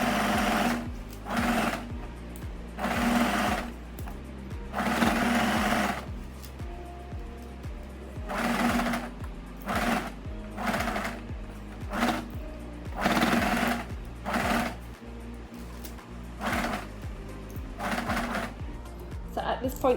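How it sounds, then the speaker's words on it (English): A sewing machine stitches around the edge of a backless top with a 1 cm seam allowance, running in repeated bursts of rapid mechanical whirring separated by short pauses, with a voice talking between runs. "So now with a 1 centimeter seam allowance, I'm going to stitch around the entire edge of the top"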